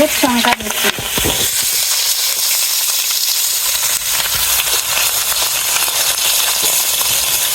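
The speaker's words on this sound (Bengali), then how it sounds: "পুঁটি মাছ বাজিবার করছি এবার" Small puti fish frying in a pan of oil, a steady, close, hissing sizzle that runs without a break, with a few brief clatters of a utensil stirring near the start.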